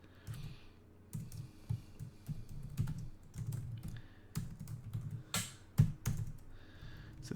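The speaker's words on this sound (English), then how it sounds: "Forgive my inaccurate typing. I hit backspace a lot." Someone types an email on a computer keyboard in uneven bursts of clicks and frequent backspace taps, close and fairly quiet, with short pauses between runs.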